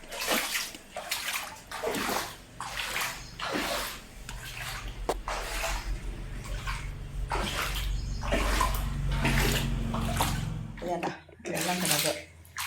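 Flood water draining out of the rooms and hall of a house, sloshing and trickling close by in uneven bursts while a voice talks over it.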